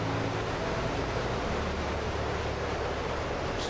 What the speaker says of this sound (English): Oh man, that is loud. I always have to turn the engines down for this.